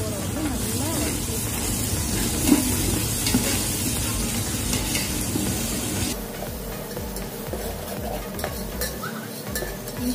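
Ginger garlic paste sizzles and gets stirred in a pan with green chilies for chicken biryani: a continuous frying hiss with scraping stir strokes, close up, with softer sizzling in the later part.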